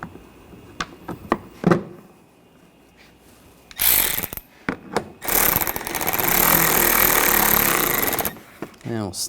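A hand ratchet snugs down the bolts on a front license plate bracket of a 2014-2020 Nissan Rogue. A few sharp clicks come first, then long, loud bursts of rapid close-up ratcheting.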